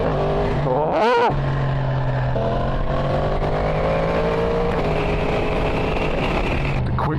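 A 2023 Yamaha MT-10 with a Woolich remap accelerating hard, its engine note rising through gears with a quick shifter snapping quick, abrupt upshifts, loud and close with constant wind rush.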